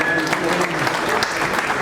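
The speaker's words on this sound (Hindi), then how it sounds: "जोरदार तालियां रविंद्र मिगलानी जी के लिए" Enthusiastic applause from a chamber of industries audience honouring a member with a turban, a loud continuous wash of many clapping hands filling the room, with voices mixed in beneath.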